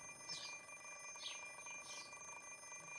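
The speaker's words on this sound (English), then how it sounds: "I sigh and turn off the ringing alarm clock." An alarm clock in the Fate/Stay Night Remastered video game rings in three short electronic trills spaced about a second apart, thin and quiet over a steady background hum.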